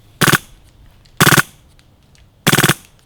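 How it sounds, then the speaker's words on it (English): Wolverine Wraith CO2 airsoft gun firing full auto: three short, loud bursts of rapid popping shots about a second apart, close and crisp, with quiet gaps between and no voices. "All right, let's do some full auto."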